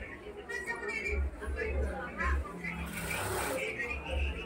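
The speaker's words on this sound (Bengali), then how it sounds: "এখানে কিন্তু আমাদের ভাইয়া সেলাই করতেছে" A sewing machine stitches fabric while a winter Genji garment is being cut and fitted, giving a low rhythmic mechanical whir in short bursts beneath ongoing talk and background chatter.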